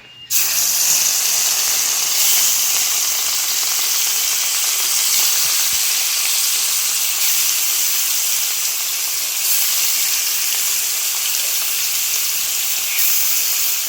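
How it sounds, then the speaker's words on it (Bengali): Rohu fish frying in hot oil for a cauliflower and potato fish curry, giving a loud, steady sizzle with bright hiss that runs unbroken from start to finish, close up, with no voices. "তেলটা গরম হয়ে গেছে, এখন মাছটা দিয়ে দিব।"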